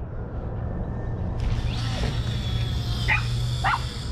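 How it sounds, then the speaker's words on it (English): A dog barks twice in quick succession, fairly near, during a shrimp-bait fishing outing, over a low steady hum. "my dog is driving me crazy with all the barking"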